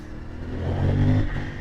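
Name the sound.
450cc motorcycle engine revving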